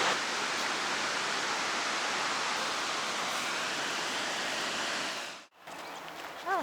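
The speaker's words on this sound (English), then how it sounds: "the falls are just beautiful" Nairn Falls, a waterfall on a high-running river, roars as a broad, steady rush of falling water close by. It cuts off abruptly near the end, leaving faint bird chirps.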